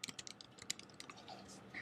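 Quick typing on a computer keyboard, a close run of crisp, uneven key clicks that loosens into sparser taps, faint and alone.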